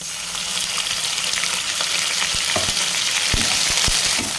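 Onions and ginger paste sizzle and fry in a pan, a steady close hiss broken by a few soft clicks of stirring, with no voices.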